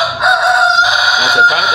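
A Goliath rooster, a large fast-growing breed raised on a farm in Chad, crows one loud, sustained call lasting nearly two seconds, with a strong harmonic tone close by.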